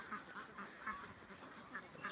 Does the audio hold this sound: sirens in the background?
no